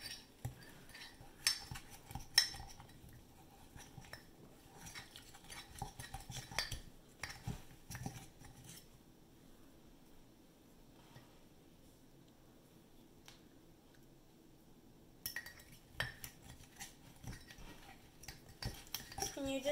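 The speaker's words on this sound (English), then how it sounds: "You're going to want to stir all of that together." A metal spoon scrapes and clinks against a mug while stirring chocolate chip cookie batter, giving soft, irregular taps and chinks close by. The stirring stops briefly partway through, then starts again.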